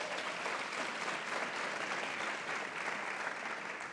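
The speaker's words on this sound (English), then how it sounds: "I just say women's names and people applaud." Steady, dense applause from an audience at a portrait unveiling honoring a judge, a continuous wash of many hands clapping at even volume for the whole stretch, with no voices standing out.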